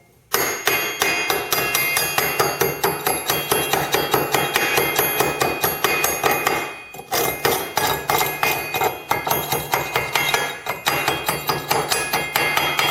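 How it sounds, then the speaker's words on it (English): A chipping hammer rapidly knocks slag off a stick weld bead laid with 6011 rod, a loud, bright metallic tapping in fast steady bursts with a brief pause midway, close up and with no talk. "that is where your chipping hammer comes in. So let's go ahead and chip that."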